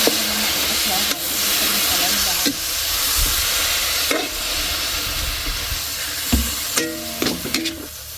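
Grated santol simmering in coconut milk (gata) in a rural kitchen, a steady hiss and bubbling sizzle close by, with the scrape and clank of stirring breaking in now and then.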